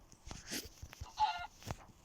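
A few short, faint clucks from a chicken in a video game over soft clicks and rustling.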